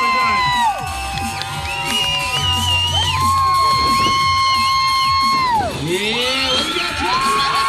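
A county fair audience at a live show cheers, whoops and screams loudly, shrill children's shouts rising above the crowd throughout, with an announcer's voice mixed in.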